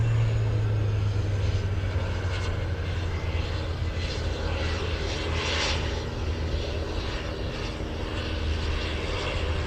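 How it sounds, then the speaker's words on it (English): Steady, loud aircraft engine drone from a Cessna Grand Caravan single-turboprop on the runway at Anchorage airport, a continuous low hum with broadband rush holding level throughout, no talk. "We have Grand Caravan on the runway."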